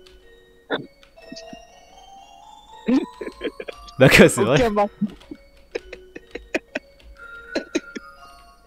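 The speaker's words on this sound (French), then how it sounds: "On dirait un peu une musique de camion de marchand de glace, limite, un peu." Jingly ice-cream-truck-style tune from the horror game LOSTBOY.EXE, bright tinkling melodic notes in scattered bursts, with a louder warbling passage in the middle and a person briefly talking over it.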